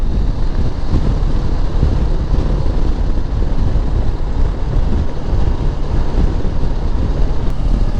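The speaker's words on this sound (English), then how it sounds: "check whether you can hear the wind noise on the helmet or not" Steady, heavy wind roar buffets continuously inside a motorcycle helmet at 80 km/h, a dense low rumble with no pauses and no voices.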